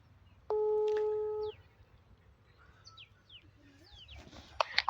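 A telephone gives a single steady electronic tone lasting about a second while a call is being dialed. Faint bird chirps and rustling follow in a quiet outdoor setting.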